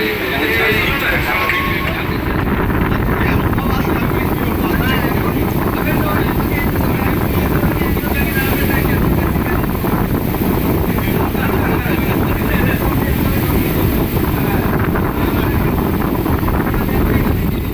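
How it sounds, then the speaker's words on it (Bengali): A local train running toward Digha, a continuous loud rumble and rush of wind that stays steady throughout, with voices faintly under it. "আর কিছুক্ষণ সময় পরই আমাদের ট্রেনটি ছেড়ে দিল গন্তব্যের দিকে।"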